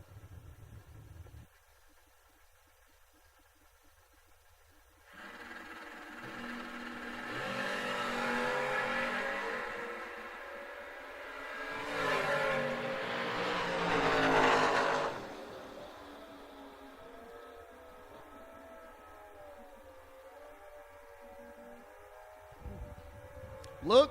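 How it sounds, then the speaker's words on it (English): Drag race cars, a Chevy II and a Camaro, roar down the strip at an outdoor event. A quiet stretch leads into a long, loud surge of engine noise that swells twice, then fades to a distant drone. "The unknown Chevy 2 on the left, that's Ronnie Kinzer in the Camaro."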